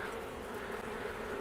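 Honey bees hum in a steady, dense buzz around a hive frame laid on the ground to gather fallen bees. The drone continues alone and sounds moderately close.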